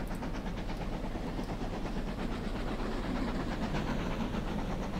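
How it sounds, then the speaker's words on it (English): A steady rumbling, clattering train arriving in the Transport Fever railway simulation game, a continuous mid-distance roll of wheels on track with a faint hiss, with no voices. "you can see a train just coming in up there"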